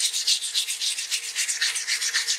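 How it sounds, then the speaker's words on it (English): Rhythmic, hissing rubbing strokes repeat about five times a second, a close, fine abrasive scrubbing of wet stone with fine sandpaper, with no voices. "and we start sanding"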